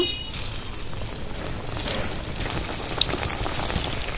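Steady crackling sizzle of puffed-rice cutlets frying in hot oil over low-to-medium heat, moderately loud and continuous, with a faint click partway through.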